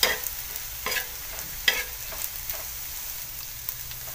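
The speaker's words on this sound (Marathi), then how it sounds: "आता मी अगोदर तेलमध्ये झिंगे तळून घेणार आहे।" Prawns frying in oil in a pan for a green chilli thecha, a steady soft sizzle broken by several sharp stirring scrapes, close and fairly loud with no talking.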